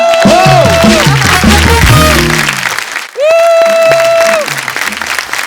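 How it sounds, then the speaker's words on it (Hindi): Loud studio audience applause for the Kapil Sharma Show family on a comedy show, with tonal music or voices running through it, a brief dip near the middle, then a strong second swell. "खैर, एक बार कपिल शर्मा शो की फैमिली के एक बार जोरदार ताली हो जाए।"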